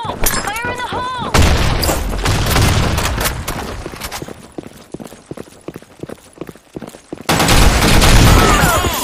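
Counter-Strike-style shooter on the Broken City map, with a loud grenade blast and dense bursts of rapid gunfire. Sharp clustered shots fill the middle, heavy rumbling noise sits at the start and end, and a game voice is heard.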